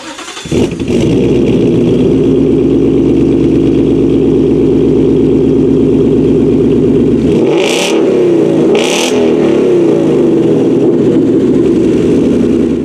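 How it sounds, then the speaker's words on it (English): A modified Ford Mustang GT with an upgraded exhaust idles with a steady low rumble, then revs sharply twice in quick succession, the exhaust roaring close by. "the exhaust note, well, just listen for yourself."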